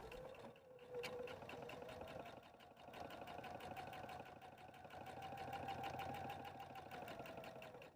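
Sewing machine top stitching around a rectangle cutout in fabric for a tissue cover, a steady rapid mechanical whirr with slight dips in pace, fairly quiet and close.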